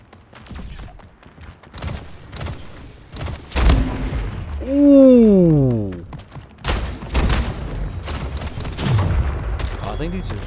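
Sniper and shotgun shots from a Splitgate match crack out as several loud, sharp reports spread through the clip, with a sweeping synthetic effect near the middle and game sounds between the shots.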